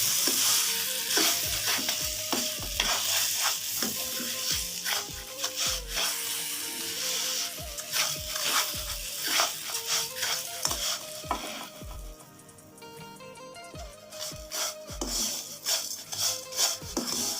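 Paneer roasting with cardamom and sugar in a pan for halwa, a spatula repeatedly scraping and stirring in rhythmic strokes over a soft sizzle, close and fairly loud, with no talking.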